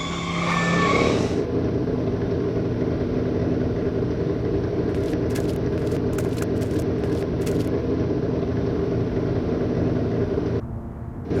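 The DeLorean in a Back to the Future video game roars continuously as it accelerates, a loud steady engine rumble that holds for about ten seconds before cutting off, with crackling bursts partway through; no talk.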